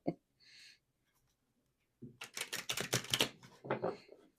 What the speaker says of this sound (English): Give these cards a shuffle if they want to cooperate.